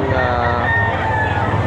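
Roosters crow loudly and continuously, layered with clucking fowl, at a busy livestock market in Bocaue on a rainy day, with a steady crowd murmur underneath.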